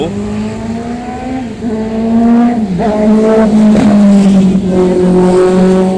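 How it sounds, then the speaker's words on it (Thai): Race cars roar around a race track, their engines rising and falling in pitch as they sweep past, loud and continuous with overlapping revs for the whole stretch. "ที่นี่เขามีสนามแข่งรถด้วยเหรอ"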